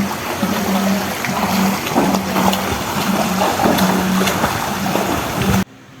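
Water churns and splashes steadily in a resort wave pool, a dense, loud, continuous wash with a faint low hum underneath, cutting off abruptly at the end.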